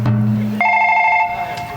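A mobile phone rings in a home: a steady electronic ringtone tone sets in partway through and holds clearly, with a low hum beneath it before it starts.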